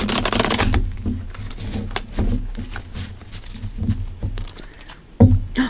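Tarot cards being shuffled in a dense, riffling burst at the start, then scattered soft card slaps and flicks, close and fairly loud with no talking.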